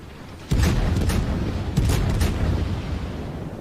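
Heavy shell salvos from the cruiser Hindenburg in World of Warships, two loud booming volleys with sharp onsets about a second apart, each trailing into a rumbling decay, with no voices over them.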